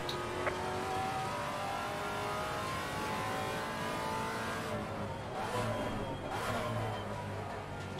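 Maserati MC GT4 race car engine in the Assetto Corsa Competizione racing game, a steady droning drone with a brief rising rev near the end, continuous and fairly loud, no voices.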